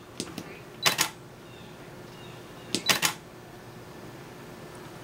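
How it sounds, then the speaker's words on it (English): A Canon 7D shutter is fired by a push button, giving two clusters of crisp mechanical clicks a couple of seconds apart over a quiet room hum, with a few faint ticks before. "it operates the shutter."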